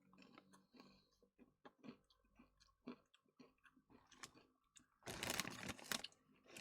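Crunchy cheddar-flavored ridged potato chips being chewed close up, a run of crisp bites and crackles that grows louder and denser near the end.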